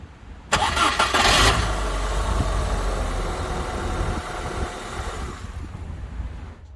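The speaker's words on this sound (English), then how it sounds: "Now I shall start the car and celebrate with a cup of tea." A car engine cranks and catches after a new starter motor and battery have been fitted, bursting to life loudly, then settling into a steady idle that slowly fades.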